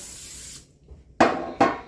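Cooking spray is sprayed into a 9x9 baking pan in two short, loud hissing bursts, close to the microphone, following a softer rubbing sound.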